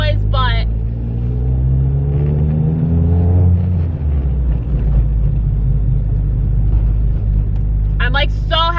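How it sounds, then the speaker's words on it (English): Steady, loud low rumble of engine and road noise inside a moving Acura RSX with a short-throw shifter, the tone rising and falling as the engine revs, with someone speaking over it at the start and the end. "I don't know if you can hear me through all of this cabin noise"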